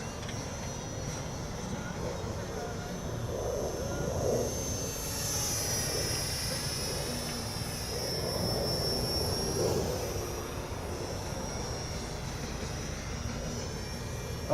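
A WLtoys XKS A220-P40 mini RC fighter airplane flies outdoors, its small electric motor whining steadily and rising and falling in pitch as it passes overhead, with some broadband wind noise and a voice talking at times.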